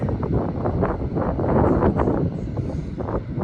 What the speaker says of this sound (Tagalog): It's very windy, as usual, because it's winter.